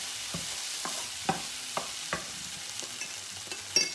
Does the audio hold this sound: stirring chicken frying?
yes